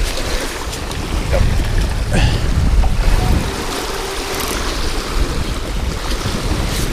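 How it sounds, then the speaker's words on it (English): Strong wind and choppy waves around a boat out catfishing, a steady loud roar of rushing air and sloshing water with microphone buffeting throughout. "The wind and the waves have gotten worse"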